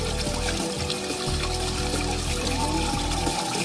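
Water from a natural spring in West Bengal flows and splashes in a steady, continuous rush, close and fairly loud, with no voices over it.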